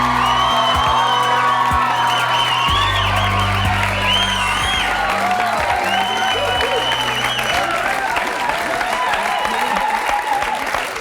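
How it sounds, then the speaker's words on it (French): TV studio audience on a French talk show applauds loudly as a guest is welcomed, with sustained clapping, whoops and cheering, and a music bed underneath, lasting the whole stretch. "Je vous demande d'accueillir et d'applaudir très fort Christian."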